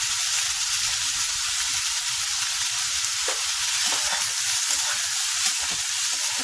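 Three medium onions with a green chilli and a pinch of salt fry over a high gas flame in a pan, giving a steady, close sizzle with brief crackles and stirring scrapes and no talking.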